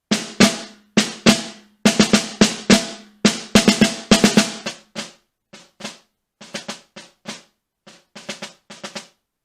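Snare drum played alone in phrases from a Portraits in Rhythm etude, crisp stick strokes in quick rhythmic bursts, a loud forte passage followed by softer rim-edge playing, close and dry.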